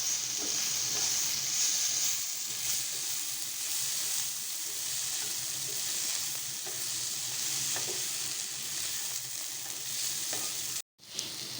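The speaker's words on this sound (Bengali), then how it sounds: "এখন এইভাবে আমি 1 মিনিট ভেজে নেব।" Singara filling frying with ground cumin in a pan, a continuous even sizzle with soft stirring scrapes, ending in a brief cut of silence.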